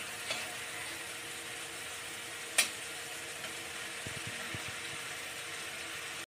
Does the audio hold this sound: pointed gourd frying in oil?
yes